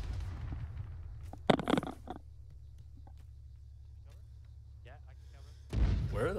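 Mortar rounds land in Arma 3 in a Western Sahara desert setting, a sharp burst of impacts in the middle and a heavy rumbling hit near the end, over a low steady drone, with voices talking in between.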